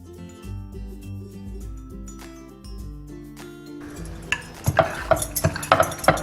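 Spicy potato obbattu dough rolled out with an oiled rolling pin, giving soft rolling thumps that turn into quicker knocks and clacks against the board, near and unaccompanied by talk.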